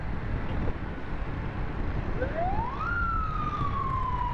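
An ambulance siren rises and then holds a steady wail over continuous road traffic noise in Karachi, approaching from behind and growing clearer in the second half.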